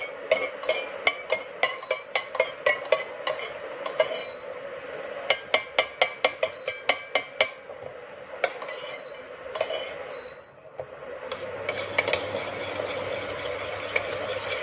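Beeswax melts in a pan on low flame for a homemade lip scrub as a spoon stirs it, knocking out quick rhythmic metallic clinks in bursts, then softer scraping against a low hiss.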